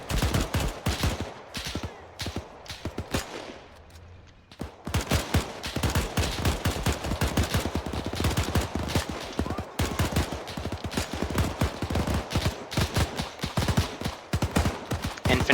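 Combat gunfire from the World War II shooter Iron Front during a German assault near an armoured personnel carrier: dense, rapid rifle and machine-gun bursts crack close and loud almost without pause, with voices breaking in now and then.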